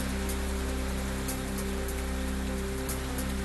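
Light rain drizzles steadily over Kudal in Sindhudurg district, Maharashtra, a continuous soft hiss with faint droplet ticks and a low background hum, with no voices.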